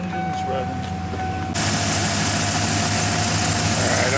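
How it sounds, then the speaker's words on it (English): A 1995 Ford 302 V8 idling with the air conditioning on max, a steady low engine drone under a brief voice, with a loud blower-like roar cutting in partway through. "The engine's running."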